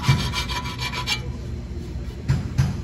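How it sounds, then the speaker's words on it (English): A hand file lightly rasping burrs off a metal dirt bike rim during a tire change, a run of quick rubbing strokes at first, then a pause and two more close strokes. "I'm just lightly deburring the rim where I made screwdriver marks"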